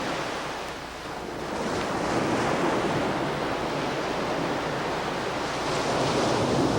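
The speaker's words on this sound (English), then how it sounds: "where waves break white in sharp contrast to the beach" Waves break and wash up on a black sand beach in Hawaii in a continuous, full roar of surf that swells and eases slightly, with a windy hiss and no voices.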